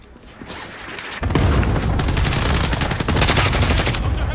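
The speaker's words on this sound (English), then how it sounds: "Enemy cluster strike. Watch your head." A cluster strike blasts down in Call of Duty: Modern Warfare, with a dense, continuous barrage of rapid explosions and gunfire-like cracks that erupts abruptly after a quieter second and stays loud to the end.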